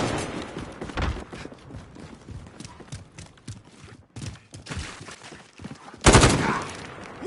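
Gunfire crackles during a firefight: scattered shots and bursts, some near and sharp, building to a loud, dense volley near the end.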